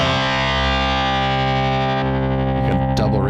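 Distorted electric guitar played through Logic Pro X with a tremolo effect switched on, a sustained chord pulsing steadily before a few new notes ring out near the end, loud and alone without talk.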